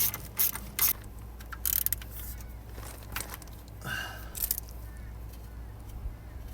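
Small screws being unscrewed with a 7 mm wrench to take off an engine shield, heard as a run of close mechanical ratcheting clicks and metal taps with short pauses between.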